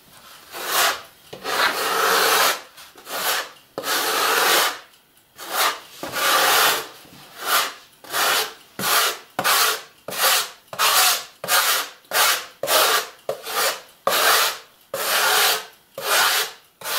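Filler putty is spread with a spatula on a G-scale LGB model railway layout. Close, rhythmic scraping strokes repeat steadily, some long and some short, with brief pauses between them and no talking.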